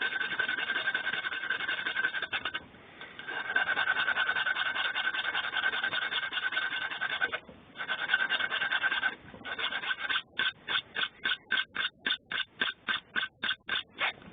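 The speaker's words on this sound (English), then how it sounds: "I'll hold it nice and steady whilst I file it. It's a simple back and forth job." A needle file rasps back and forth over the corrugated metal edges of an aiglet, a steady scraping that runs continuously before breaking into quick, regular strokes near the end, close and fairly quiet, with no voices.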